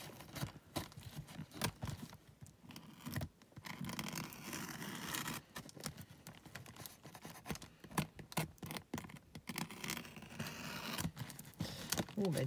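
Scraping and tearing of tape on cardboard, with scratchy cutting sounds and rustling throughout, close by.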